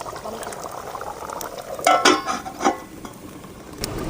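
Mutton sukka simmering in a covered pot in a village kitchen, a soft steady bubbling with a few louder clinks or stirs midway, close by and without talk.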